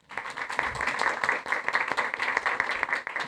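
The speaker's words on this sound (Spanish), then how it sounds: "Bien, un fuerte aplauso, por favor." An audience at a gastroenterology event gives brisk, steady applause, a dense patter of clapping at moderate volume that runs for a few seconds.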